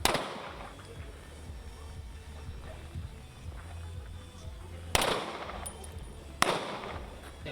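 Pistol shots ring out at a shooting range as sharp single cracks: one at the start and two more near the end, spaced apart over a low background hum.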